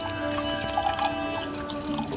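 Kangen water pours into a container for homemade almond milk, a steady liquid trickle with soft splashy bursts, close and moderately loud, with no talking over it.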